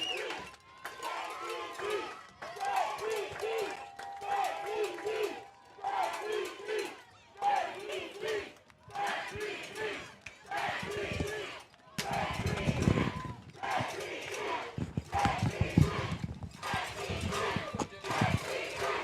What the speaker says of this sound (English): you hear the shouts of JPG in the crowd and ACS